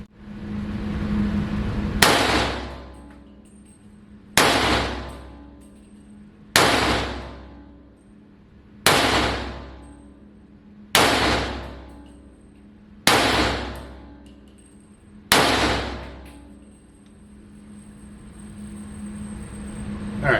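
Seven loud rifle shots from a 5150 rifle with a full-length Arca rail crack out at an even pace, each one ringing and fading before the next.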